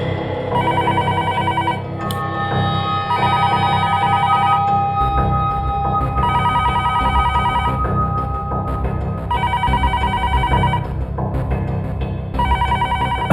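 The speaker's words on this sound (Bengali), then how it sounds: "আরে ঘাবড়াবেন না, ফোন ধরুন।" Telephone ringing in a crime drama scene, a loud, close electronic ring repeating in regular bursts with short gaps between them, heard alone without speech.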